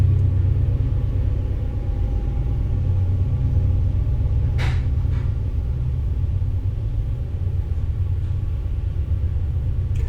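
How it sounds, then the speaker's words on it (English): A steady, heavy low rumble rolls on continuously, like a train passing nearby, with a brief higher scrape or squeal partway through. "let's enjoy the sound of the train"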